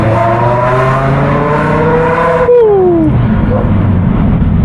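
A BMW E60 M5 engine revs hard and loud, a rising harmonic howl that climbs steadily, then cuts sharply as the revs drop, heard close and alone.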